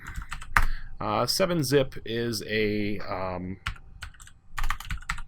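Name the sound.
typing a software search on a computer keyboard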